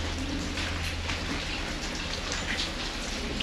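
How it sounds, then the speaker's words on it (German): Steady rain falls into a derelict, decaying house with painted walls, a dense continuous patter of drops on surfaces, fairly loud and even throughout with no talking. "Der Regen tropft hier rein ins Haus."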